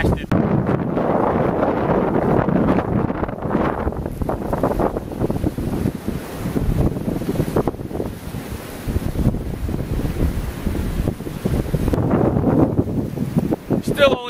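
Strong wind gusts buffet the microphone on exposed high ground, a loud continuous roar and rumble surging and easing throughout.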